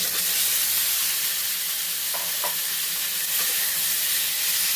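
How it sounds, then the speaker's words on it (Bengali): Tomatoes tipped into a pan of panch phoron spices frying in oil for a sweet-sour tomato pickle, giving a steady close sizzle with a few soft stirring scrapes and no talk. "পাঁচফোড়নটা একটু ভেজে নিচ্ছি বেশ ভালো মিষ্টি একটা গন্ধ আসবে সেন্ট আসবে এরপরে এই টমেটোগুলোকে দিয়ে দিচ্ছি"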